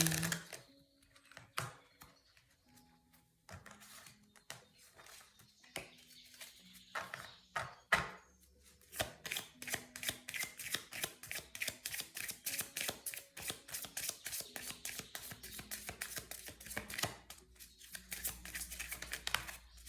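A deck of butterfly-themed oracle cards is shuffled and drawn, giving quick rhythmic clicking and flicking taps that grow denser and steadier toward the end, close and quiet.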